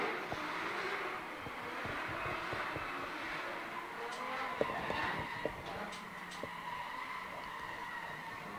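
Drift car engine roaring with tire squeal during a qualifying run at a stadium drift series, a continuous loud, distant-sounding rasp with occasional sharper pops.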